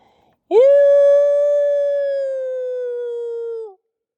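A person in Upstate New York imitates a wolf howl: one sustained, rising then slowly falling tone held for about three seconds, loud and close, with no talking.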